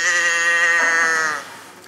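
A small plastic toy cow set on a restaurant table gives a drawn-out bleat-like moo, loud and close, fading out near the end with no talk.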